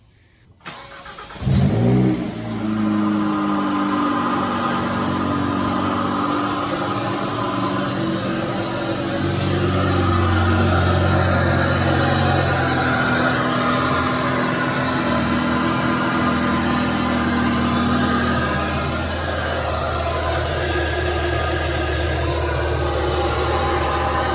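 A Hyundai Elantra N with a Forge turbo inlet and intake cranks and catches on a cold start, then roars into a loud, steady idle with rising revs that stays close and constant throughout.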